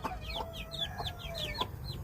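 Chickens cluck in a quick series of short, rising calls repeating every fraction of a second, fairly faint over low background noise.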